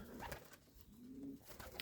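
Sport pigeons in a loft give soft, low cooing calls, one drawn-out throaty coo rising and falling close by, with rustling and faint flutter around it.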